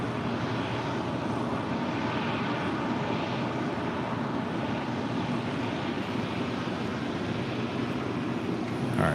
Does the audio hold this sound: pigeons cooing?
no